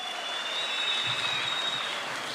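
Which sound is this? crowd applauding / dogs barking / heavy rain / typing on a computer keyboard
crowd applauding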